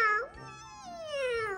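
A cat gives a close, clear meow that rises, dips, then stretches into a long falling second part, heard alone without talk.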